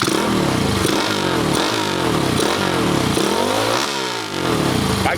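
A Honda Dax CT70 clone motorcycle with a turbo and an 8-inch wide rear tire revs repeatedly up close, its engine rising and falling in loud cycles with a clattering mechanical edge; no talking.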